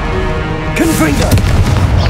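Confringo explosive spell from Hogwarts Legacy going off in a short, punchy burst with a quick booming crack, close and loud over steady game ambience and music, with a voice calling out spell names.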